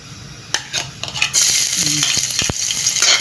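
Onion and garlic sizzle in hot oil in a home kitchen, the frying hiss swelling loudly after a few utensil clicks and scrapes, with sharp stirring knocks against the pan.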